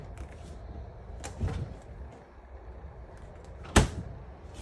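Two distinct knocks of a cabinet drawer or door closing in a travel trailer kitchen, one soft and one sharper, over a low room hum.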